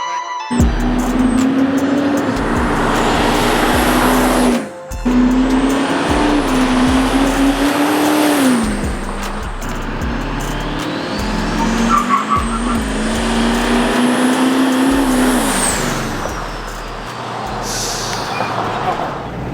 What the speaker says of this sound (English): We're going to take the truck for a quick drive.